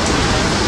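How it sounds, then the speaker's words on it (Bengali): Heavy rain pours down in a dense, steady hiss, loud and close, with no other sounds. "এরকম ঝুম বৃষ্টিতে"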